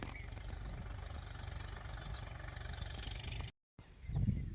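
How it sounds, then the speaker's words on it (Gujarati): A tractor arriving at a farm field for sowing idles with a low, steady engine drone, faint and constant, with a brief dropout near the end followed by a louder low rumble. "આજે તો આપણે ખોખી વાવવા ટ્રેક્ટર આવી ગયું છે"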